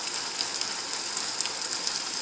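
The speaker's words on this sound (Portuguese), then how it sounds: "Olha a chuva em Colatina." Steady rain falls on a street in Colatina during a holiday, a dense even hiss of drops with faint scattered patters and no voices.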